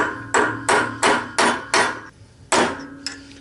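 A hammer strikes a punch to stake the locking nut on a Nissan 300ZX Z32 driveshaft: six sharp, close metallic blows in a steady rhythm, then a lighter tap at the end.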